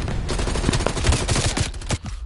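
Gunfire in the video game Black Ops Cold War, a loud sustained burst of rapid shots filling the whole stretch with barely a pause.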